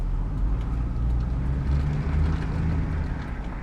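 Supercharged 2000 Ford Lightning pickup with a 5.4-litre engine pulls away from a dead stop, a loud, steady low-pitched engine roar and drivetrain drone holding close throughout, easing slightly at the end.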